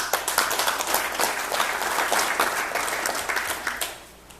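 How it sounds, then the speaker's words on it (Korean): An audience at a breakfast business forum applauds steadily for several seconds, dense clapping near and loud, then tapering off at the end. "여러분 큰 박수로 환영해 주십시오"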